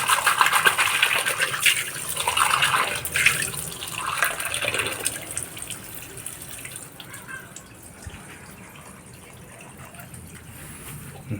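Water poured out for animals, a light splashing trickle with dripping that is loudest early on, then thins to a quieter steady dribble.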